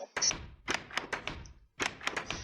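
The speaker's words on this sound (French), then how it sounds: "il y a l'ancien bruit des portes" The old door sound from a Minecraft texture pack repeats as a series of hollow wooden thunks and taps, close and dry, in irregular bursts with short silences between.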